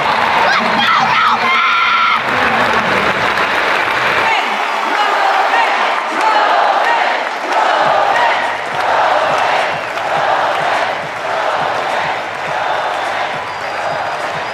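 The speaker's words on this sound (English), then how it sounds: "Roman Khrennikov getting a standing ovation here." A large crowd at a fitness competition cheers and roars throughout, giving a sustained standing ovation with shouts and screams across the whole stretch, loud and dense, with a voice talking over it at times.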